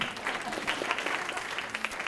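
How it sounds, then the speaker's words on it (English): An audience at a speakers showcase claps continuously, with brisk, moderately distant applause carrying evenly across the short stretch with no voices on top. "That's where everybody claps. Good job, man. That was fantastic. Keep clapping."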